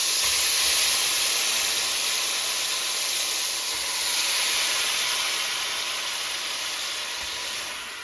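Beef pieces for a broccoli stir fry, all added to the pan at once, fry with a loud, steady hiss that holds evenly from start to finish, with no voices.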